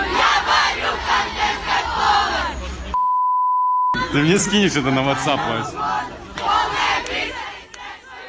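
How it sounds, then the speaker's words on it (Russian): A dense crowd of teenage fans in Krasnodar waiting to meet a famous blogger, shouting and chanting loudly and close by, with a long censor beep cutting in and a nearby voice talking over the din. "Эта толпа подростков собралась встречать известного блогера, кумира, который приехал в Краснодар."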